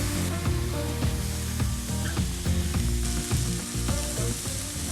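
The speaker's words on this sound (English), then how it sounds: "Saute the veggies for about 5 minutes until they're soft." Asparagus, mushrooms and other vegetables sauté in a hot pan, a loud continuous sizzle broken by repeated scraping stirs, heard close up with no voices.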